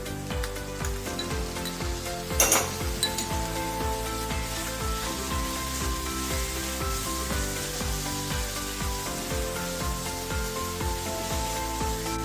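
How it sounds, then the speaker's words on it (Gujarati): Capsicum sizzles with onions in a pan for a Surti cheese paneer gotado street dish, a steady close frying hiss with light stirring scrapes and a brief louder clatter early on, no talk. "ડુંગળી આછા ગુલાબી રંગની થાય ત્યાર પછી તેમાં કેપ્સિકમ આપણે એડ કરી દઈશું."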